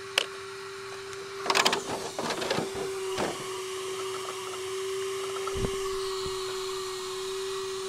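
A Traxxas Drag Slash RC car with a 1969 Chevy Nova SS body, running on a 4S pack, does a burnout. A steady, high electric motor whine runs throughout, broken by short bursts of tire scuffing and rattling early on. No one speaks.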